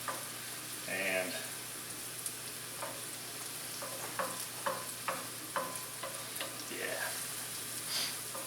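Mushrooms fry in a pan with a steady, quiet sizzle and a few soft clicks of stirring, close by, with no voices over it.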